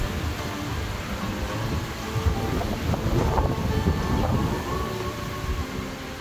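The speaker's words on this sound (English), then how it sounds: "It's starting to get a little windy again." Hurricane wind blows outdoors in a steady, rumbling roar across the microphone, rising slightly in the middle as a gust passes, with no talking.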